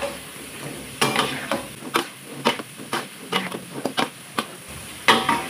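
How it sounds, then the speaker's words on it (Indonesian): Flour-coated sausage skewers frying in hot oil, stirred so they scrape and clack against the pan in irregular taps over a steady low sizzle, close and fairly loud. "kita aduk-aduk seperti ini sampai benar-benar sosisnya ini matang dan tepungnya itu uh, menjadi gurih eh crispy ya"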